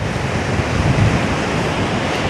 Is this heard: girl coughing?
no